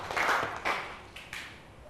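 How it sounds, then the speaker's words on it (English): Seventh-grade students in a maths classroom clap for a classmate, a few quick, scattered claps over a couple of seconds, moderately faint in a roomy space. "Let's give 2 big claps to Teresa."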